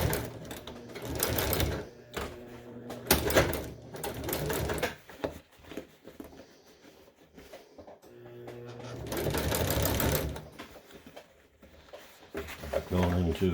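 Sewing machine straining through thick vinyl seat-cover material for a 1966 GMC seat bottom, running in several loud bursts of rapid stitching separated by pauses, with speech heard in between.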